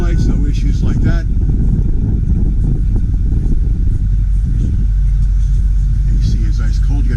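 A 2008 Ford F250 Super Duty with a 6.4 turbo diesel engine fires up and settles into a loud, steady low rumble that continues throughout, close by, with a voice talking over it.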